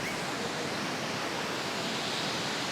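Waterfall seen on a comedy trip, a steady broadband roar of falling water, continuous and loud with no talk over it.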